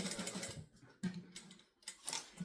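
A sewing machine stitches fabric lining in short bursts, a close, faint, rapid mechanical whirr that pauses briefly between runs.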